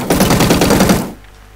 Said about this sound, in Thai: M4A1 ครับปืนนี้น่าจะแรงมา ก็ใช้กระสุนคล้ายๆคลึงกันนะครับเป็นปืนตระกูลเดียวกัน แต่ปืนนี้ความถี่มันจะสูงกว่านะครับ